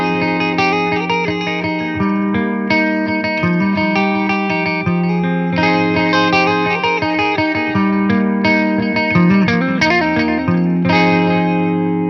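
A clean electric guitar plays a flowing run of chords and single notes, bright and ringing with a touch of effects, steady and loud with no voices.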